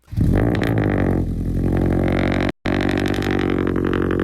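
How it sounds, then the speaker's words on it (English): Subaru BRZ / Scion FR-S sports car engine revving loudly and continuously up close, a harsh steady drone with one abrupt dropout midway before resuming. "the BRZ and the FRS, and personally, I know it's the same thing, but the FRS sounds worse"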